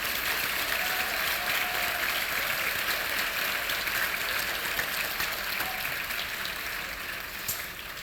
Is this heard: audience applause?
yes